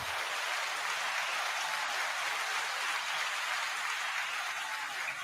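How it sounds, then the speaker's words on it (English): Steady audience applause from a crowd fills the whole stretch, a dense even wash of clapping with no break or swell. "Give him a round of applause."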